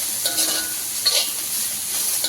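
Vegetables for street-style veg noodles fry in a hot pan, giving a continuous bright sizzle with soft stirring rustles, close and steady.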